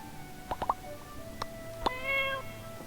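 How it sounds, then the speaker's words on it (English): A cat in the farming life game My Time at Portia meows several times, short close calls around a half second and again near two seconds, over faint game ambience and music. "How come the stray cat is so fat?"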